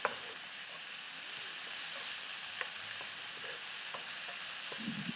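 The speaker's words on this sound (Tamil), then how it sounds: "1 டேபிள் ஸ்பூன் உப்பு சேர்த்து நல்லா வதக்கிக்கிறலாம்." Chopped onions, green chillies and tomatoes sauté with salt in a pan for an egg gravy, giving a steady close sizzle and frying hiss, with a few soft stirring clicks and scrapes and no talking.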